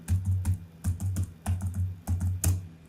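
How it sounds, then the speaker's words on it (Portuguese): Numbers are typed on a computer keyboard in quick bursts of close, clicky keystrokes, several clusters of taps separated by brief pauses, with no voice over them. "Vou digitar outro aqui."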